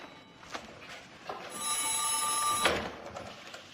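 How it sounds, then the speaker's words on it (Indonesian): An old landline telephone bell rings in a tense wartime headquarters scene set in Yogyakarta, a single bright, sustained jangle of about a second against a quiet room, preceded by faint clicks. "Sambungan telepon sudah pulih."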